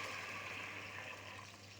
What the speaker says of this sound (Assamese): এতিয়া মই ইয়াত জোখমতে পানী দিছোঁ।